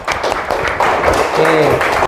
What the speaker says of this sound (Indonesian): Oke, tepuk tangan dulu untuk Naura.